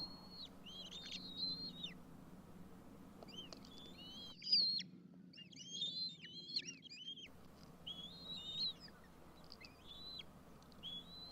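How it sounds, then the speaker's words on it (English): Bald eaglets Mira and Zeagle give repeated high, soft chirping calls in bursts, fairly close, over a steady low background rumble with no talking. "Now we could really hear Mira calling for that food with those much softer chirps."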